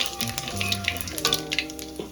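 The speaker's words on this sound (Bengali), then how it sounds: "এই মাছ ভাজার তেলে দিয়ে দেবো অল্প পরিমাণে 5 ফোড়ন" A small amount of panch phoron, the five-spice seed mix, crackles and sizzles in oil left from frying fish while pui shak is cooked, a close, uneven spatter with brief pops.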